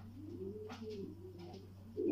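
A pigeon coos softly nearby, a low rolling, throaty call with a couple of pulsing swells over a quiet background hum.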